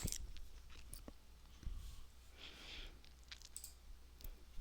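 Computer mouse clicking at a desk: a few faint, sharp single clicks spaced irregularly over quiet room tone, with no talking.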